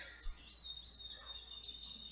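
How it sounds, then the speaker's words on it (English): Faint, thin bird chirps flutter high over a quiet background hiss, small birds calling in quick light bursts. "These freaking little wren, finches, whatever, wrens."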